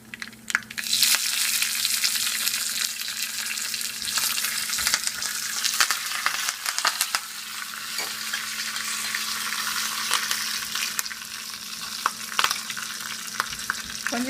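Curry leaves frying in hot oil for a Tamil vegetable kurma, giving a steady, close, bright sizzle with crackling pops and occasional stirring scrapes throughout, with no speech.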